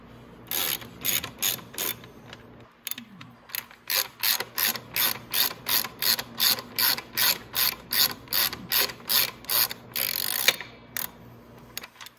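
Ratcheting wrench work on motor mount bolts of a 125cc motorcycle, with 10 mm and 17 mm wrenches: bursts of rapid ratchet clicking in a steady repeating rhythm, close and loud, with no talking.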